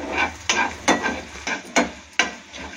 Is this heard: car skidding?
no